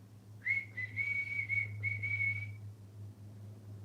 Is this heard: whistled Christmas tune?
yes